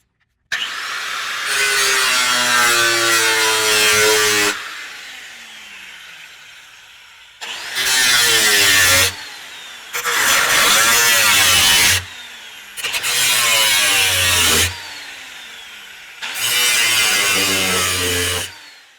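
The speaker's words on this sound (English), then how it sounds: "Feels weird cutting my truck, I ain't gonna lie." A power tool cuts through a truck's metal body in five bursts of loud, harsh grinding with a pitch that rises and falls, separated by short pauses.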